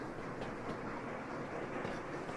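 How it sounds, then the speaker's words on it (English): In the Sweet Transit video game, a train departs with a soft, steady rail rumble and faint clatter that stays low and even throughout, with no talking. "First train should come out in just a second."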